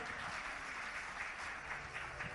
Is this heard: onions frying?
no